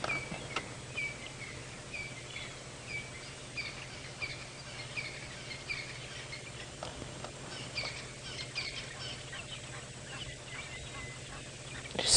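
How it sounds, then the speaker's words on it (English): Several Egyptian geese call from a distance at a quiet dam at sunrise, faint honking notes scattered over steady background ambience. "There's a few Egyptian geese calling from the background."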